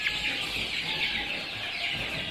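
Chickens with yellow legs and varied plumage murmur and cluck continuously inside a coop, a dense, steady chorus of many birds heard at moderate distance with no talking.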